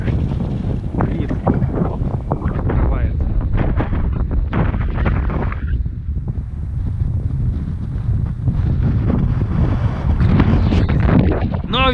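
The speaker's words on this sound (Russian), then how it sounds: "Ветер просто адский сегодня." Strong, gusty wind buffeting the microphone outdoors on a hilltop field during a village coin hunt, loud and continuous roaring rumble, with someone talking under it.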